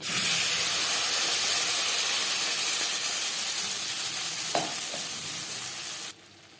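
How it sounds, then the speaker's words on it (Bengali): Spice paste sizzles loudly in hot oil with cumin seeds in a kadai, a steady close hiss and crackle that runs unbroken for several seconds and then cuts off abruptly, no talk. "জিরে ভেজে নেওয়ার পর দিয়ে দেবো মশলার পেস্ট"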